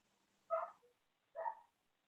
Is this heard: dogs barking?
yes